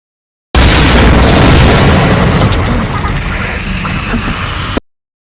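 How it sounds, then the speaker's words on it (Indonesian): Monstrous orc-like creature bursting apart in a film scene: a loud, deep booming blast that hits at once and rolls on as a long, rumbling decay, with no voices. "makhluk itu pun meledak"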